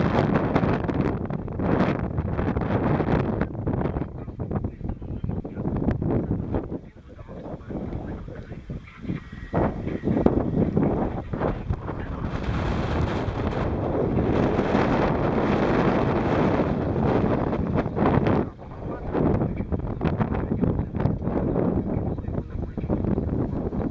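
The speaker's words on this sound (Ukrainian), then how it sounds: "Вітер є тут сьогодні." Strong wind buffets the microphone in loud gusts that rise and fall for the whole stretch, with a few voices faintly underneath, at the Maidan ski lift.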